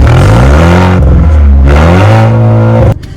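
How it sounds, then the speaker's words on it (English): An Alfa Romeo Giulia fitted with a new Remus exhaust revs loudly and close up, its deep engine note rising and falling twice before cutting off sharply near the end. "we did get a new exhaust on the Giulia."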